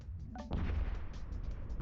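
An explosion from the space game Eve Echoes booms low and rumbling, with a deep burst after a brief tonal blip, then a rolling crackle that fades.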